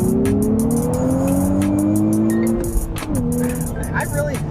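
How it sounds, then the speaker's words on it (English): A car engine revs and climbs while driving, its steady rising whine sweeping up and then dropping sharply as gears change, loud and close, with repeated clicking and someone talking over it. "the way this motor sounds is really nice"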